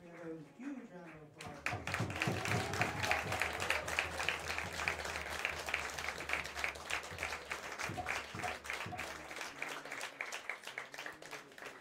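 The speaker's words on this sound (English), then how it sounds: "Can we have a huge round of" After a brief spoken moment, an audience at an evening talk with a spiritual teacher on the bhakti tradition breaks into sustained, dense applause that carries on strongly for about ten seconds before thinning out.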